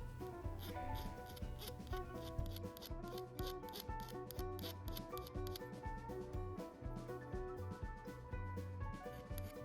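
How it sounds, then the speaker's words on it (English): A metal file rasps back and forth in quick, steady strokes, close and continuous, with a gritty scraping texture, filing drilling burrs off the back of a metal spoon fishing lure. "The drilling caused some burrs on the backside, so I'll file those down."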